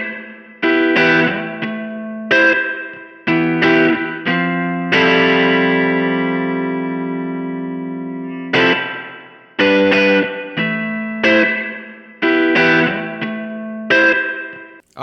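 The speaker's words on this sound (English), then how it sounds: "So mode 2 is a 3-spring reverb." Electric guitar chords and single notes played through a Keeley Verb O' Trem pedal's splashy three-spring reverb, each strum followed by a metallic, drawn-out wash that decays slowly.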